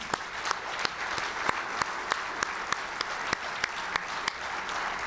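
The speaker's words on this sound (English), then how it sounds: "And a round of applause for them." Steady applause fills the room at the 2018 Distinguished Awards Celebration, a close, busy wash of clapping with sharp, evenly spaced claps cutting through it throughout.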